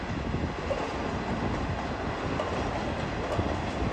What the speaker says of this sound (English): there's a train pulling in.